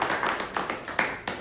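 An audience applauding itself at a gathering, a brisk patter of overlapping claps with a few sharper accents, fairly close.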